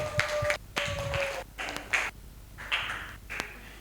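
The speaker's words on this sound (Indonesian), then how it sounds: "beri tepuk tangan untuk Weni" A small group of students claps in a classroom, with short bursts of hand claps separated by pauses, sounding fairly close and light, with no voices over them.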